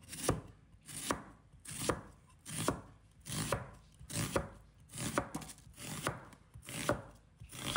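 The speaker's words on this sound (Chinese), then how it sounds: "准备半个洋葱，把它切成小块。" Half an onion being chopped into small pieces with a knife on a board: close, crisp strikes in a steady rhythm, roughly two per second, with no talking.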